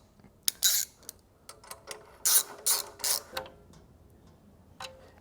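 A ratchet wrench tightens a pipe clamp on a motorcycle slip-on exhaust, heard as several quick bursts of clicking separated by short pauses, fairly close and with no talking.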